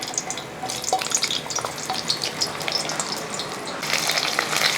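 Small onions frying in coconut oil for a Kerala-style coconut chammanthi give a steady, dense sizzle with fine crackling. It stays close and fairly loud throughout and swells slightly near the end, with no talking.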